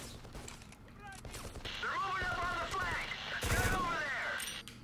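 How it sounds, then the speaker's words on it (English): Rapid full-auto gunfire bursts from the video game BLACK rattle continuously with explosions and chaotic battle noise, while someone talks excitedly over the top. "I'm using full auto, you can use burst fire or single shot if you want."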